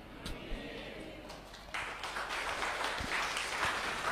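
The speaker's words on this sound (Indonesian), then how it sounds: "Kenapa tepuk tangan?" Applause from a crowd, a dense patter of clapping that swells partway through and continues steadily to the end.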